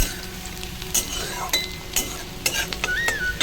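Onions fry in a pan with a continuous soft sizzle, broken by repeated scrapes and taps of a spatula stirring against the metal, close and fairly loud, with no talk.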